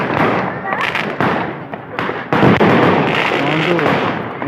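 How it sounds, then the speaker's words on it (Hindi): Fireworks burst high overhead at an Arts Council display, a dense run of crackling pops and booms, with voices talking close by throughout. "उसको पटाखे देखो कहाँ फाड़ते हैं"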